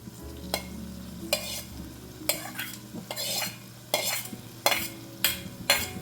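Dried fish (sukat) frying in oil in a pan, a soft steady sizzle broken by repeated sharp scraping stirs at a loose rhythm, close and fairly quiet, with no talk.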